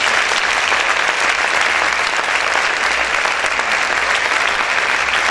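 Loud, sustained applause from a church congregation praising the Lord, a dense unbroken wash of clapping that holds steady throughout with no voices over it.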